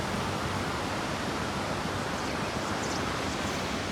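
The Sutlej river flows through a mountain valley near the Spiti region, a dense, loud, continuous rushing roar of water, steady and close, with no voices.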